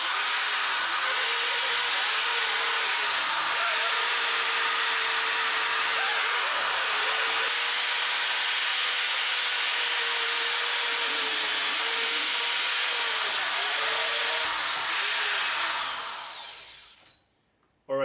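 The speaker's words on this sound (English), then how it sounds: "So now we're going to clean up the hub flange before we install the new rotor." Cleaning the brake hub flange on a Honda CR-V with a power tool makes a loud, continuous high-pitched grinding whir close by, fading out near the end.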